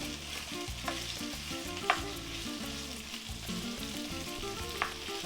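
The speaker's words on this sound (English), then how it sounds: "Hear that sizzle?" Steady, loud sizzling of potatoes frying in a pan for migas breakfast, with a few light clinks of stirring over the continuous crackle.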